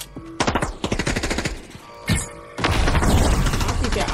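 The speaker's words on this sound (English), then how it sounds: "He had the charged shotgun." Charged shotgun blasts in Fortnite, a quick series of loud booming shots followed by a sustained noisy rush, with voices in the mix.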